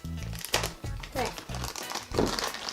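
Scissors cut into plastic toy packaging, giving off a series of sharp crinkles and rustles in short bursts over steady background sound, with a voice heard nearby.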